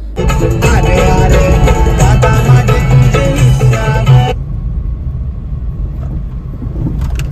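A car engine runs loudly and steadily nearby, then cuts off abruptly after about four seconds, leaving a much quieter background hum.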